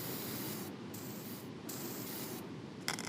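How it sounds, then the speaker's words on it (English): Brake cleaner hisses from an aerosol can onto a car's rear axle, about 350-size, in steady bursts with short gaps between, ending with a scraping rub near the end. "I'm gonna clean her up professionally, or just brake clean."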